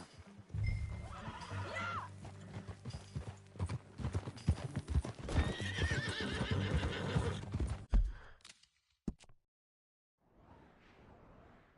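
A horse whinnies loudly over clattering hoofbeats in Red Dead Redemption 2, then things go quiet before a soft rustle returns.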